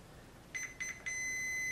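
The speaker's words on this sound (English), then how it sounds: "I have my multimeter set to resistance, and I have the beep tone for continuity." A multimeter set to continuity gives a bright electronic tone during testing of a new switch on an ARP Pro Soloist synthesizer, heard as two short beeps and then a steady sustained tone, close and clean.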